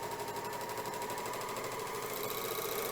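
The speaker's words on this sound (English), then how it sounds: "And then I'm going to start stitching. As I'm stitching, the excess is being cut off." A Janome Magnolia 7034D serger stitching fabric while its blade trims the excess, a fast, even mechanical whirr with rapid rhythmic ticking held steady and close throughout.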